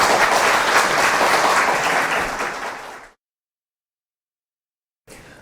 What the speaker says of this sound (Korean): 잘했으면 박수를 한번 치고,